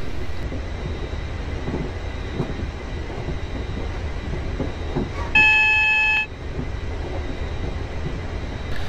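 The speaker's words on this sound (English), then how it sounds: "when that alarm sounds, I have to cancel it within a few seconds" A train cab warning alarm from the Railworks 3 simulator sounds once, a short bright electronic tone lasting about a second over a continuous low rail rumble and cab noise.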